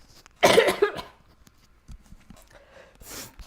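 A single burst of harsh, phlegmy coughing, close and fairly loud, followed by quieter breathy sounds and faint movement.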